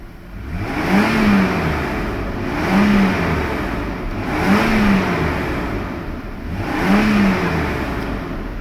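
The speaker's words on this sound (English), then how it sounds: "That press on the gas pedal was red line." A Mercedes 600SL engine revs hard to red line in repeated surges, climbing to a high whine and dropping back, four times in steady rhythm, loud and close.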